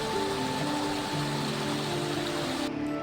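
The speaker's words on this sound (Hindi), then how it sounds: "सिर्फ पत्थरों से टकराता हुआ पानी और उसकी वो लगातार चलती हुई धुन" Forest stream water flowing over stones, a steady continuous rushing and babbling wash, close and fairly loud, alone with no voices.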